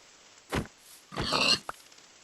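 Pig in Minecraft oinking, two short grunting snorts half a second apart followed by a tiny click, close and clear against a quiet background.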